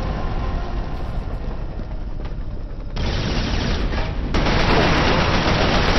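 Gunfire in a PS3 video game running on the RPCS3 emulator, a steady loud rattle of shots and blasts that grows louder in steps toward the end.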